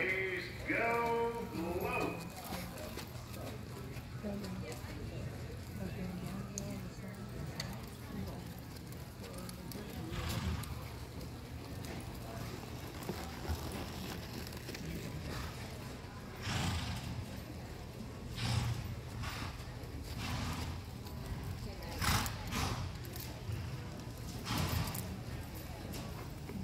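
Horses clip-clop at a steady walking pace, the hoof beats moderately loud and fairly close over a continuous outdoor background, with brief louder bursts at intervals.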